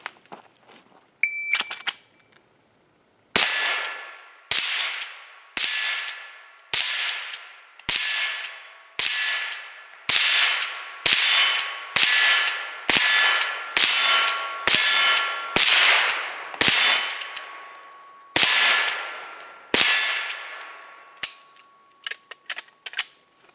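A Henry Golden Boy .22LR lever-action rifle fires about sixteen shots in a steady rhythm, each sharp crack followed by a ringing clang from steel targets, loud and close with short pauses between rounds.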